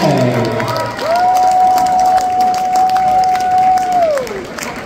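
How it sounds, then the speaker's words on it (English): At the men's 2A state championship trophy award for the Davidson Day Patriots, a large crowd applauds and cheers in a steady, loud wash, with a long whistle or whoop ringing out over the clapping. "let's award one final resounding applause to both these talented teams and all their outstanding student athletes"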